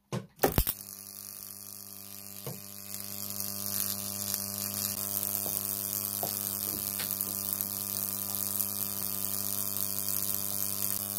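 A 12 kV neon sign transformer drives a high-voltage arc across a 50 mm gap: a sharp crackling snap at ignition, then a steady, harsh electrical buzz that holds on with faint crackles.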